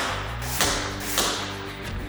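Broadhead arrows striking a G5 Mega Meat target at 40 yards outdoors, heard as two soft, dull thuds about half a second apart over a low background hum.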